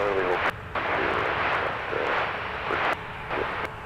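Airliner engines roaring through a takeoff roll at Minneapolis–St. Paul airport, a loud sustained broadband rush with brief dips where radio chatter cuts in.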